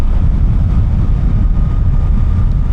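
Suzuki GSX-8R motorcycle engine running at speed on a rainy-day ride, a steady, loud, dense low rumble mixed with wind roar that holds evenly throughout with no talking.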